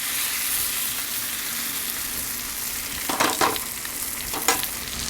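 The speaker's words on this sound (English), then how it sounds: "So it's got a nice sear going on." Bone-in ribeye steak searing on a soapstone slab in a Kamado Joe Big Joe grill, a steady, loud, continuous sizzle with a few short scraping and clattering handling noises near the end.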